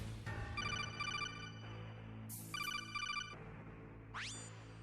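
Telephone ringtone sound effect playing in bursts: electronic warbling rings repeat in two groups separated by short gaps, with a brief high swoosh between them and a rising sweep near the end, clear and alone without talk.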